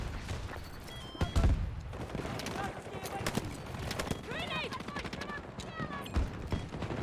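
Rapid bursts of gunfire crackle through a chaotic Battlefield 2042 firefight, sharp cracks and rattling volleys under near-continuous talk from a player, with occasional chirping tones in the middle.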